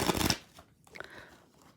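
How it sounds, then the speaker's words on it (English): Tarot deck shuffled by hand at close range, a dense burst of riffling card noise followed by a few softer taps and slides as the cards settle. "Let me just shuffle them at least twice"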